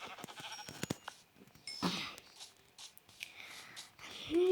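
Sheep bleat in a Minecraft game world, short soft calls scattered among quiet clicks and game noises, fairly faint with no talking.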